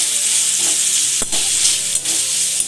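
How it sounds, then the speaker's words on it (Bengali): Whole ginger and a few garlic cloves fry in hot oil for a Poila Boishakh chicken dish, giving a steady, loud, close sizzle broken by a few brief dips, with no talking. "গোটা করে আদা আর কয়েক কোয়া রসুন এগুলো আমি তেলের মধ্যে এগুলো একটু তেলে আমি ভেজে নেব"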